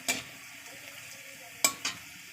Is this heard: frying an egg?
yes